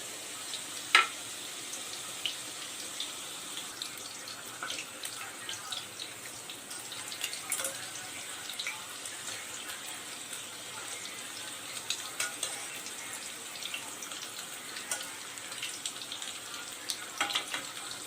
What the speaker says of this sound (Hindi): ऑयल गर्म है, हम इसको ऐसे इसमें फ्राई करने के लिए रख देंगे